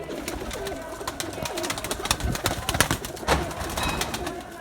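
Pigeons coo in a pet shop holding a large flock of newly arrived birds, with soft overlapping coos and scattered wing flutters close by.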